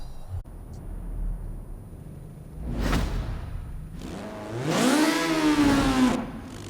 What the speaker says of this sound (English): That is a very high-pitched engine noise.